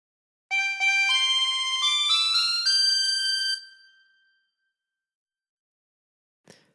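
A harmonica plays a phrase of the Star Spangled Banner as a clear run of sustained, stepping notes for about three seconds, then fades out, with a faint click near the end.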